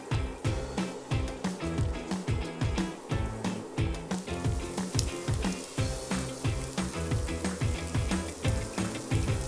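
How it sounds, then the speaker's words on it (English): Sausages sizzle as they brown in batches in an uncrowded pan, a steady broadband frying hiss running the whole time beneath a loud, rhythmic musical beat. "I can just begin hearing them sizzle"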